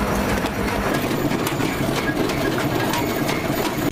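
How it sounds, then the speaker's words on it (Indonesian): A washing machine running loudly, a steady mechanical drone with rattling and knocking throughout, cutting off abruptly at the end. "mendengar suara mesin cuci yang terdengar ekstrim"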